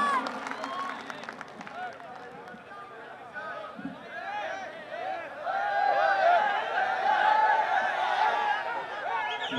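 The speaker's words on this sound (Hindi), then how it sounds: "जोरदार तालियों से इस्तकबाल कीजिए" Applause from the audience at an all-India mushaira greets a poet and MP taking the stage, steady clapping mixed with crowd chatter and some laughter, swelling louder in the second half amid voices.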